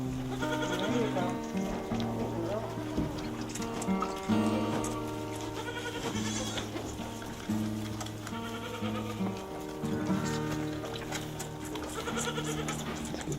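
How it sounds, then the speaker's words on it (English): Several baby goats at a goat dairy bleat loudly and repeatedly while being bottle fed, overlapping cries close by with people talking underneath. "That little goat right there that you're feeding"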